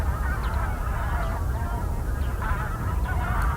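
Flock of migratory geese honking at the Nakdong River estuary, a dense continuous chorus of overlapping calls, loud and steady throughout with no talking.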